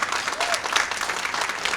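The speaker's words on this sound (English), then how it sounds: "I think that's worth a clap right there." Lively audience applause at a technology luncheon, a dense burst of many hands clapping close and fairly loud, with a brief murmur of voices mixed in.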